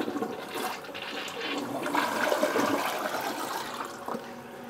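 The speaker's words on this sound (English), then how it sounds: "Last thing is just to go flush that toilet." A household toilet flushes close by, a steady rushing gush of water that swirls and drains for several seconds, heard alone with no voices.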